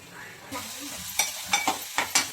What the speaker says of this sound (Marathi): तेल गरम झालंय कांदा टाकते